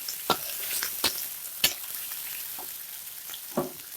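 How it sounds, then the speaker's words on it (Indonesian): Tofu pieces tumbling into a pan for squid, bitter melon and fermented soybean curry in coconut milk, with a low sizzle under a handful of sharp scraping stirs of a spatula, close and moderately loud, no talk. "Lalu kita masukkan tahu. Kita aduk."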